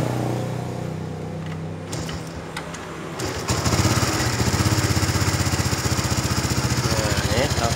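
A Honda Supra X 125 FI fuel-injected motorcycle is kicked over a few times, then its engine catches and settles into a loud, steady, close idle with a rapid rhythmic chug.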